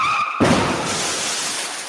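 A traffic sound effect fired from a radio studio soundboard: a short click, then a sudden loud rush of car noise with a skidding edge that holds steady to the end.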